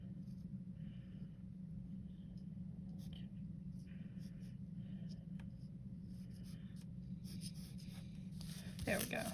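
A pencil drawing a letter on paper, soft steady scratching strokes that come and go over a low constant background hum, faint and close.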